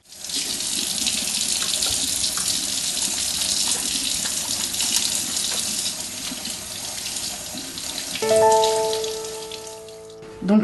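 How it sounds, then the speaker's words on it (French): Tap water runs steadily into a sink while hands are washed beneath it, a broad close splashing hiss that shifts near the end as the flow changes and a squeak sounds; no talking. "Je vais me laver les mains."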